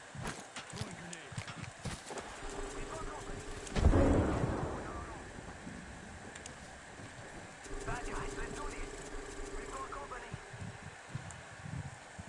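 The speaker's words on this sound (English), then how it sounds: "Throwing grenade." In Apex Legends, a grenade goes off as a single sharp, booming blast about a third of the way in. A second, softer rumble follows later, and a voice speaks over the game noise.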